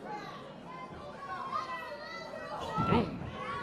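A jam-packed crowd at an Alliance Pro wrestling show fills the room with dense, overlapping chatter. The murmur swells louder toward the end.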